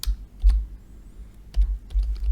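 Code being typed on a computer keyboard produces a few close, crisp key clicks in short bursts with brief pauses between them. No one speaks.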